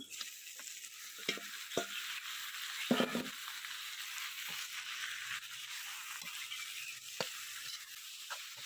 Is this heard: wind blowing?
no